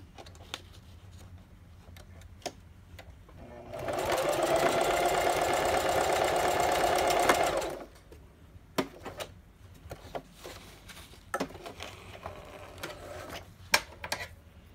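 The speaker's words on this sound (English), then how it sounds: "So, then we sew this again" A sewing machine runs a straight stitch through a folio journal signature, giving a loud close burst of about four seconds in the middle. Quiet handling clicks and taps come before and after.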